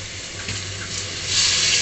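Cold water runs from a kitchen tap while fish is being prepared, a steady hissing splash that grows louder and fuller toward the end, with no talking.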